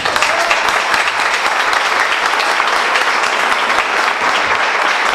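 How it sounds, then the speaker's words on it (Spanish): Audience applause for professor Diego Pereira at a music school's end-of-year ceremony, a steady, loud wash of many hands clapping throughout with no talk over it. "Queremos invitar que le den un fuerte aplauso al recién recibido"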